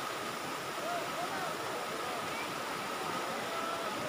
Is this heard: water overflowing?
yes